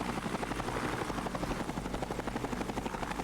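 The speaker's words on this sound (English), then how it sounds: "we're going to pull out this helicopter and missile strike something" Helicopter in the video game Entropia Universe, a steady loud rotor chop with dense engine roar throughout, no voices.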